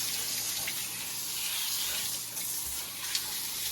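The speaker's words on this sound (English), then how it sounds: "But if you just continuously let the water run," Water running continuously onto a dog in its cage, a steady hiss and splash that stays level throughout, close and unbroken, with no voices.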